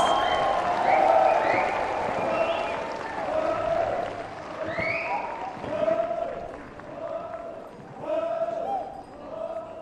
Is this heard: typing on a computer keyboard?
no